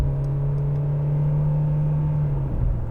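Steady engine drone and droning hum from inside a 2015 Mercedes-Benz C200 with a 1.6 engine as it accelerates, close and continuous, with road rumble underneath and no talking.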